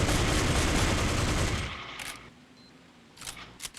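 Dense, rapid AK rifle fire in Counter-Strike on Xbox, a loud sustained burst that cuts off midway, followed by a few sharp scattered shots and clicks.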